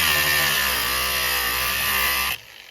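An angle grinder cuts a slot in the top of a carriage bolt with a loud, steady, high whine. It stops abruptly after a little over two seconds and leaves a faint residual hum.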